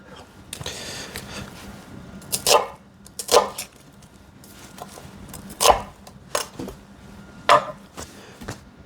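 Knife strokes chopping onions on a board for French onion soup in a restaurant-style kitchen, sharp isolated chops spaced out every second or so, close and fairly loud over a quiet room.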